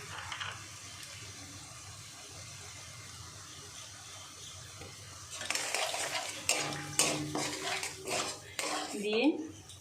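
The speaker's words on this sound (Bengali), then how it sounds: "এবার আমি এই ধনে গুঁড়ো আর জিরে গুঁড়োটা দিয়ে দেব" Coriander and cumin powder stirred into sautéed ginger, garlic and onion masala, first a quiet stretch with faint sizzle, then close metal spoon scrapes and clinks against the pan in irregular bursts, with soft speech in the background.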